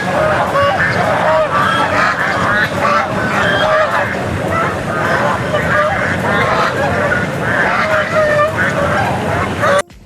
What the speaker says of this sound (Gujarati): હા, બતકનો બહુ જ અવાજ આવે છે.